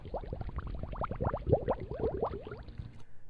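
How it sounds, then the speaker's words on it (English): Scratch's built-in bubbles sound effect: a rapid run of watery bubbling pops, dense and close, stopping abruptly just before the end. "One is called bubbles, and I can play that if I'd like to."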